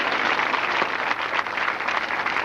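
Loud, sustained applause from a large crowd at a 1996 Diwali sadhana camp in Jodhpur, a thick, even roar of clapping that stays strong throughout.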